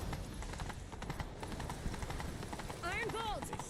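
Horse hooves pound steadily in The Witcher 3: Wild Hunt during a chase, a continuous muffled galloping rhythm beneath game noise and a short bird-like call near the end, with voices talking over it.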